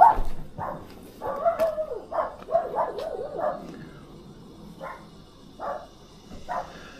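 A puppy barks and yips in short, high, irregular bursts, with a few whiny drawn-out cries, fairly close and alone without talk.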